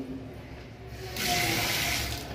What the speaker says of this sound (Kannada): ಇದು ಹೆಂಗ ಗಾಡಿಗೆ ನಳ ನೀರ್ ಬಿಟ್ಟಾರ ನೋಡ್ರಿ